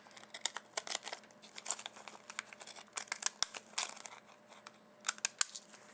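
Decorative-edge scissors snip through tissue paper in a run of crisp, irregular cuts and crinkles, close and fairly quiet, with short pauses between bursts.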